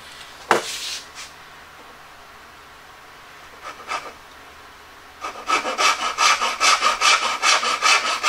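Dovetail saw cutting the side of a wood joint: a few isolated strokes early on, then a steady run of loud, rhythmic rasping strokes close by, with no talk.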